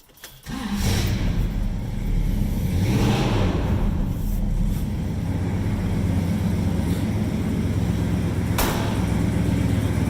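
A 1964 Dodge Polara 500 with dual four-barrel carburetors cranks and fires, then settles into a loud, steady idle that rumbles on without pause and no voices over it.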